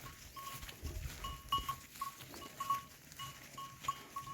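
Goats and other livestock on a farm bleat in short repeated calls, fairly near, over a soft outdoor background with no talking.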